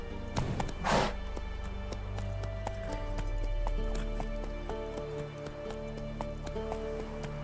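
Horse hooves gallop in the Witcher 3 video game, a quick clip-clopping rhythm beneath game music tones, with a sharp burst near the start and steady hoofbeats after.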